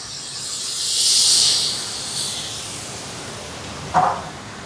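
Coconut milk poured into a pan of fried eggplant, setting off a loud hiss and sizzle that swells and fades, with a second brief flare of sizzling near the end.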